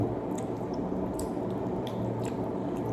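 Rice mixed with poured parippu (dal) curry being eaten at an Onam meal in Kerala, with close, wet squishing and soft chewing sounds repeating steadily over a constant low background hum.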